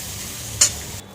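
Bitter gourd, eggplant and onion fry in a pan, a soft steady sizzle with one sharp bright scrape or clink midway, heard briefly and close.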